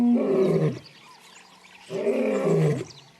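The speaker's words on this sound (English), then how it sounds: "He announces his presence with a bellowing roar, which can be heard for up to 8 kilometers" A male lion lets out two deep, bellowing roars in the wild, each swelling and then fading, separated by a short quiet gap, close and powerful with no voices.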